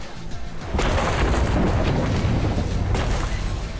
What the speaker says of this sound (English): here comes the massive explosion of Zapdos's Raging Thunder